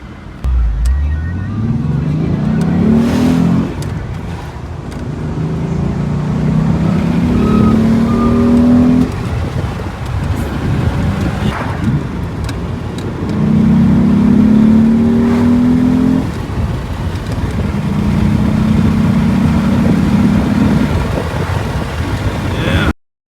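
A 30-year-old JDM Honda Legend is driven with its engine repeatedly climbing in revs through the gears, a loud close-up drone that rises and falls over about twenty seconds with road noise beneath.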